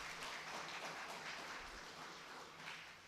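Audience applause fills a Tamil literary talk, a dense steady wash of many hands clapping together that fades slightly toward the end, with no voices over it.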